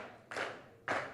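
A teen audience at an innovation week event gives two sharp, close group claps spaced about half a second apart, bright and short, with near silence in between.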